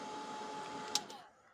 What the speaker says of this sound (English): you don't need this heat gun